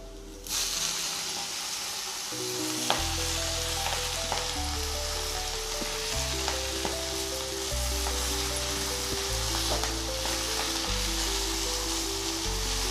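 Fresh fenugreek leaves drop into hot oil with fried garlic and chili in a pan, setting off a loud, steady sizzle and crackle that carries on evenly throughout, close up, with no talk.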